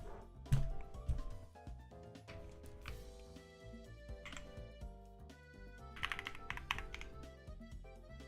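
Typing on a custom JRIS 75 mechanical keyboard, a steady run of keystrokes sitting under background music and game sounds, fairly faint and partly masked throughout.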